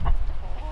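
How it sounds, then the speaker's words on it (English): Chickens cluck briefly at a homestead coop, a short burst of close fowl calls over low background rumble with no talking. "I wonder how much cleaning the chicken coops today messed up their laying schedule."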